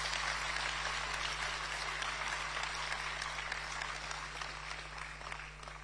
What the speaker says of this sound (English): Let's give our national chairman another round of applause.